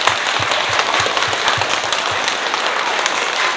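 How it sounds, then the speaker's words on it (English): School spelling bee audience giving a round of applause, dense steady clapping from many hands filling the room, close and continuous without any voices. "How about a round of applause just for that week?"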